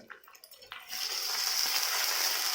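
Potato pieces frying in hot oil for sabudana khichdi: after a few soft knocks, a steady, bright sizzle starts and holds continuously, fairly close and even.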